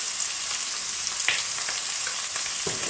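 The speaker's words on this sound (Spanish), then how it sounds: "Vamos a sofreír un poquito" Peppers and pork loin sautéing in a home pan, a steady close sizzle with occasional stirring scrapes and clicks, no voices.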